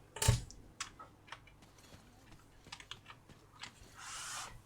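A few clattering keyboard keystrokes, irregular and close, with a louder thump at the start and a brief rustle near the end.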